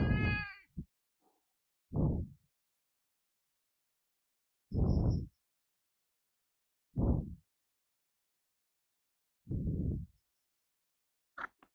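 A cat meows several times with short pauses in between. The calls are clear and fairly close, set against near silence.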